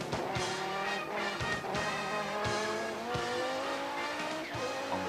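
Audi four-wheel-drive touring race cars at Swartkop circuit charging into the first corner, engines roaring and rising in pitch with gear-change dips, loud and continuous from an onboard race camera.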